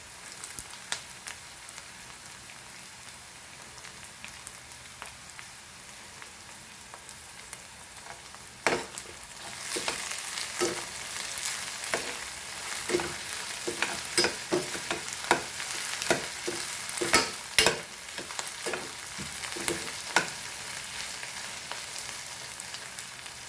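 Onions and chilies fry in a pan, starting with a faint sizzle that swells into dense crackling and spitting about a third of the way through, with stirring clatters mixed in and no talking.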